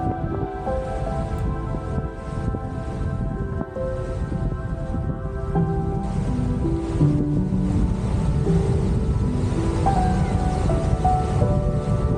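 Strong wind at the Cape Hatteras seashore on the Outer Banks, a constant loud rumbling roar buffeting the microphone, with faint tonal hum layered throughout and no pause.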